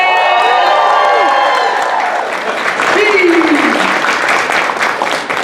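A live crowd at a Black Panther Q&A gives Michael B. Jordan loud, sustained applause, with cheering and whoops carrying over the clapping throughout.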